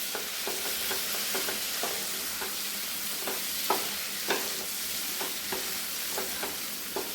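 Yam and cowpea stir-fry being stirred in a pan, a spatula scraping in a steady run of strokes over a constant close sizzle, with no voices.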